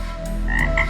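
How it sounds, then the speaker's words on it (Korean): A toad croaks in a Boruto anime scene, with a few short, loud croaks over a rumbling low background and no talking. "두꺼비를 발견."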